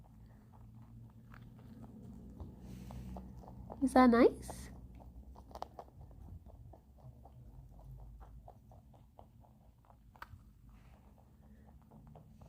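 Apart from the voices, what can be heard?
rabbits chewing and munching breakfast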